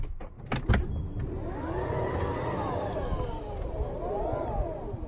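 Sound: Tesla Model X falcon wing doors opening and closing

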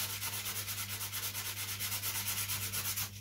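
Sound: roughing up carbon surface by sanding

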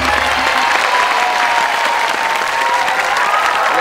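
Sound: audience applause

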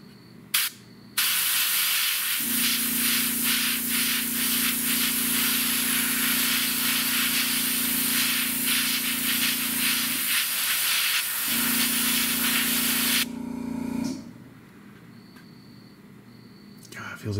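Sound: airbrush spraying Badger Stynylrez primer

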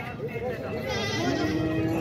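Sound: goat bleating at livestock market

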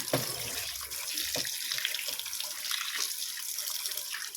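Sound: rinsing snakehead fish in running water

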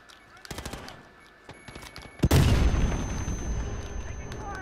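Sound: gun firing in Call of Duty Modern Warfare video game

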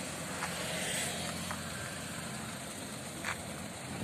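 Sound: Maruti Suzuki Alto car engine driving off truck

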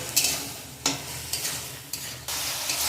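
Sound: sautéing bottle gourd in a pan

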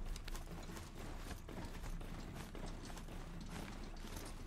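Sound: mechanical horse mount trotting, from video game Horizon Zero Dawn

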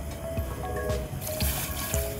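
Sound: pouring water into pot for tandoori chai

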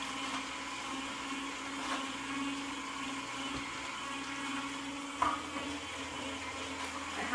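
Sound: Juico Uno juicer juicing celery for green juice

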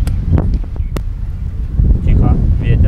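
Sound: wind

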